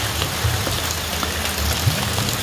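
Heavy rain falling steadily over a rural village in the afternoon, a dense, even hiss of drops on surfaces with a low rumble beneath, continuous and close throughout with no talking.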